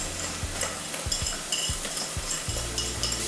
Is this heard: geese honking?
no